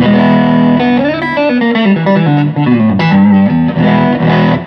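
An electric guitar, a hybrid Strat played straight into a Quilter Super Block amplifier with no effects, a melodic bluesy phrase with bending notes and a touch of reverb, loud and up close.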